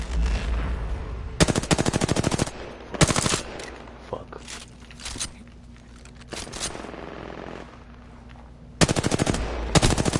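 Rapid automatic gunfire in a shooter video game comes in loud, dense bursts: a couple early, another near the middle, and a final burst at the end, with quieter game ambience between.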